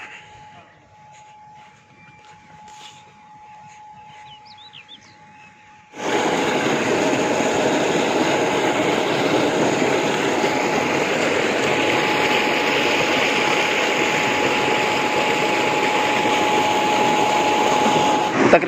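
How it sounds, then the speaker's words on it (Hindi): A village tubewell pump engine starts up partway through with a sudden, loud, steady drone that holds unchanged to the end, following a quieter stretch with faint background sounds. "तो ट्यूबवेल इधर चल रहा है, अब हम इधर ही चलेंगे ट्यूबवेल की तरफ।"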